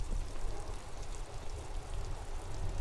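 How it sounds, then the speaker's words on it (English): Looping rain sound effect in the Disco Elysium video game, a soft continuous hiss of falling rain with faint patter, low and steady throughout with no talking. "it keeps making rain noise, but there's no rain"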